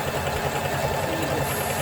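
A sewing machine set to stitch length 3 runs a T-shirt dress seam in one continuous pass, its motor giving a steady, even whirring hum with no pauses.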